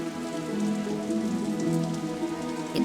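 Steady rain patters on surfaces, a dense continuous hiss with scattered drop taps, under a soft musical background and without voices.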